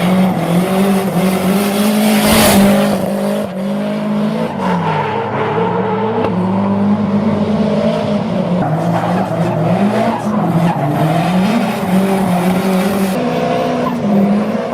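A Nissan S15 Silvia drifts with loud, continuous tire squeal and a revving engine that rises and falls, close and sustained throughout with no pauses.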